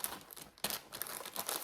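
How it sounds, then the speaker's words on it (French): Close crinkling and tearing of sticky tape, with a sharp rip partway through and rustling as it is pressed down onto a paper napkin pouch. "on va mettre un bout de scotch là"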